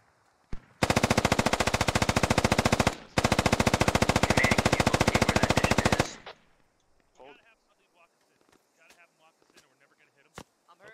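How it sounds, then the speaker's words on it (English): A DShK heavy machine gun in a video game fires two long, rapid, loud bursts, about two and five seconds long with a brief pause between them. Faint scattered clicks and a few sharp pops follow after the firing stops. "they got a Dishka firing at them"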